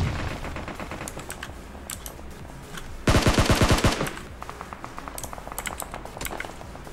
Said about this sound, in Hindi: someone shooting at me